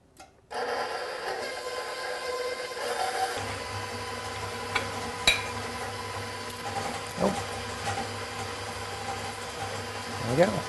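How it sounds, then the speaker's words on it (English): An electric mixer creams butter and sugar on medium speed for chocolate chunk and walnut banana muffins, a steady mechanical whir that starts after half a second and runs without a break, with a faint low hum under it. "I'm going to need 1, 2, 3 minutes to cream this on medium speed."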